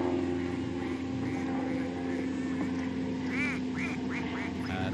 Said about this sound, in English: And the ducks pass by.